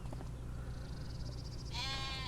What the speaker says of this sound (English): We have 12 sheep.